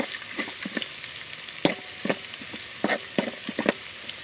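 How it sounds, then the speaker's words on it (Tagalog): Garlic sautéing in a hot pan for mung bean stew, a steady close sizzle broken by sharp scrapes and clicks of a utensil stirring it, with no talking. "Tapos ay yan na rin natin gigisahin yung ating bawang."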